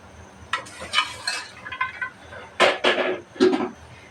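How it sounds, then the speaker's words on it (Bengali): Water spinach (kalmi shak) sautéing in a pan, with a spatula scraping and stirring in several bursts against a soft sizzle, close and fairly loud. "কলমি শাকটা আগে একটু পাঁচ মিনিট কষিয়ে নেবো"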